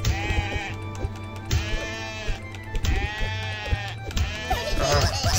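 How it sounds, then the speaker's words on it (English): Sheep in a video game bleat repeatedly, several loud wavering calls in quick succession amid game sound effects, with a voice speaking briefly. "Get over here, sheep!"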